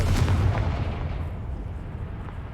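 A Confringo blasting spell explodes in the Hogwarts Legacy video game, one deep booming blast followed by a rumbling tail that fades over a couple of seconds.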